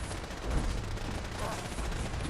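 Rapid gunfire bursts in the Fallout 4 video game, a dense, continuous crackle of shots at moderate distance over a few seconds, with faint voices mixed in.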